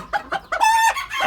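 A rooster at a backyard poultry site in Al-Jish, Qatif, lets out a single loud, close crow: a few short clucking notes that rise into a sustained, strained call and then trail off.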